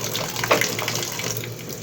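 Running cold water splashes steadily, with a brief louder slosh near the start, as bitter gourd is rinsed in a bowl under a tap.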